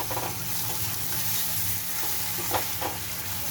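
Ginger and garlic fry alongside a hilsa fish head in hot oil, giving a steady close sizzle with a couple of brief stirring scrapes.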